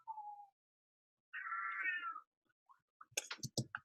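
A house cat gives a short meow, then a longer, drawn-out one after a pause, followed by a few brief chirping calls. All are close and clear against silence.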